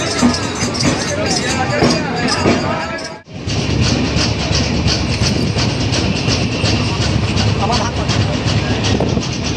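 The Jammu Tawi Express rolls on after leaving Kolkata station, with a loud, steady rumble and rattle of the carriages. A brief dip comes partway through, and passenger voices and general noise mix in throughout.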